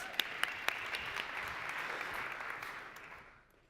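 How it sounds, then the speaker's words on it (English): A pitch-competition audience claps for a presenter from Latvia, moderate applause that starts with a few sharp claps, holds steady, then fades out. "Please, give him an applause."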